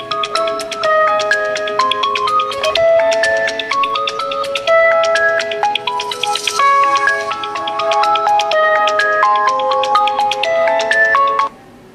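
A Realme 7 Pro smartphone rings loudly with an incoming call, a bright repeating melodic ringtone of quick tonal notes that plays close and continuously for several seconds before cutting off abruptly.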